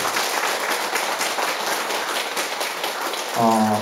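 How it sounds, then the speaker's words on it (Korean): A congregation at a Buddhist dharma service applauds in a steady, dense patter of many hands clapping, and a voice begins speaking just as the clapping ends. "우리 한번 수고하시는 분들에게 박수 한번 보내주시면 좋겠습니다"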